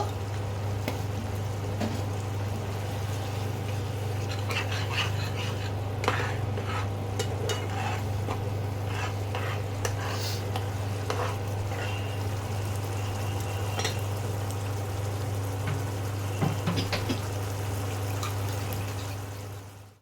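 Pabda fish simmering in a mustard and poppy seed paste with turmeric, a steady close bubbling sizzle over a constant low stove hum, with occasional light stirring clinks and no talk.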